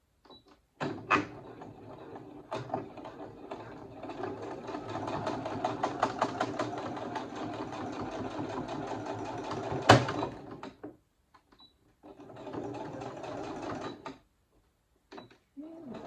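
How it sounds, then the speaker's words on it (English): A sewing machine stitches through cotton rope for a Christmas rope bowl, running in a steady close whirr for about ten seconds with clicks and handling noises around it, then a second shorter burst of stitching. "you can see that it actually sewed a line"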